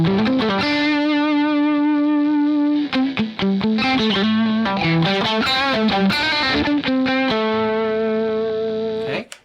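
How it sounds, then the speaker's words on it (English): Electric guitar with single-coil pickups plays a lead line, picked lightly through distortion and chorus effects. It opens with a long held note, moves into a quick run of picked notes and ends on another sustained note, loud and unaccompanied. "what I'm going to do is instead of picking so hard, I'm going to lay back on my guitar pick"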